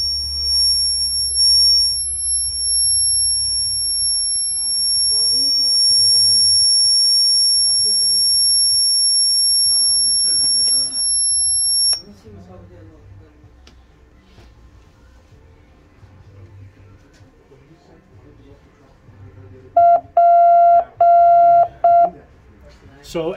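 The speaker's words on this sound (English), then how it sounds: "after you shut it down, it will beep a couple of times" A short series of electronic beeps from an MTH model train smoke unit sounds near the end after power is cut, a few sharp tones in quick succession after a stretch of low hum and handling noise.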